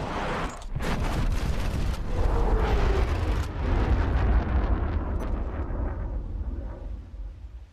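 A torpedo strikes an enemy ship in the naval combat game War Thunder Mobile, producing a loud sustained explosive rumble with heavy low-end roar that swells and slowly fades, with no talk.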